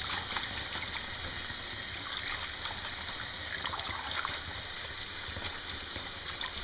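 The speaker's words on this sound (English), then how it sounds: "So another really good rinse." Water runs steadily from a tap as amaranth seeds are rinsed, a soft continuous hiss and trickle close by, with no talk over it.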